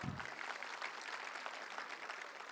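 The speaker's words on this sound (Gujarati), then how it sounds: "પહેલાં તમારા માટે એકવાર જોરથી તાળી પાડો" An audience at a school annual function claps together, a steady, fairly distant crowd applause that stays even throughout the short moment.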